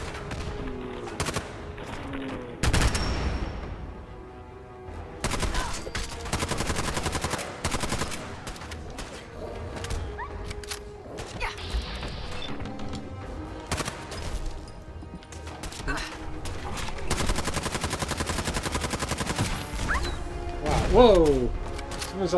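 Gunfire in Fallout 4 on the Nuka World DLC, rapid bursts of shots and automatic fire cracking in clusters over a steady game backdrop, with occasional mechanical clanks and a crash near the end.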